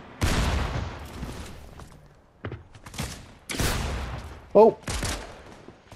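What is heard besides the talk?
gunfire from Fortnite video game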